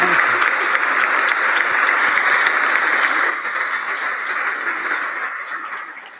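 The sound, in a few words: audience applause for Justice Breyer at the State of the Union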